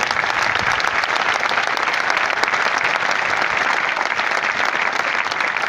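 Audience applause at a network-marketing-style stage event, dense and steady throughout, loud and sustained with no speech over it.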